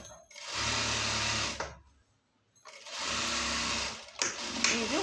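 A sewing machine runs a double stitch along trouser fabric in two bursts of steady whirring, broken by a short pause, then starting again with a few lighter mechanical clicks at the end.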